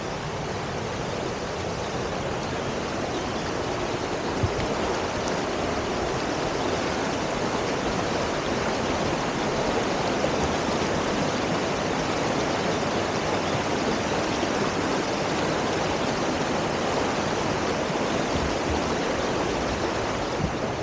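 A river flowing past a weir in dry-season conditions, a steady broadband rush of water, constant and close throughout with no voices.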